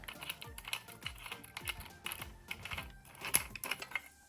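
Removing the disc from a Parkside Performance 20V cordless angle grinder brings a quick run of small plastic and metal clicks and taps, close and light, with one sharper click near the end.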